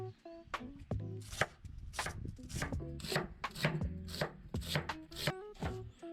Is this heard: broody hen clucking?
no